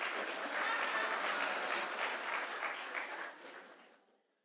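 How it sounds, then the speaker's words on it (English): An audience gives a round of applause at a business gathering, a full burst of clapping that holds strong, then thins and fades away to silence at the end. "Please give him a round of applause."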